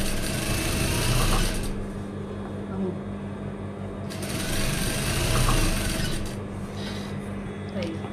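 A sewing machine runs in two long steady bursts, stitching trim tape with beige thread onto a Moroccan caftan, its close mechanical whirr and hum separated by a short pause.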